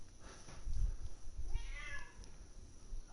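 A cat meows twice at close range during a baseball broadcast of the Astros versus Orioles, two drawn-out cries over a faint background hiss with low thumps.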